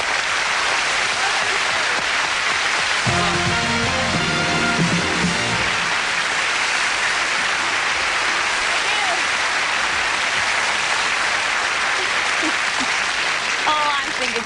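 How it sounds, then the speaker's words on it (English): A studio audience on a 1980s television variety show applauds steadily and loudly throughout, with a brief stretch of music and a voice under the clapping. "I think Ted deserves a little round of applause all of his own"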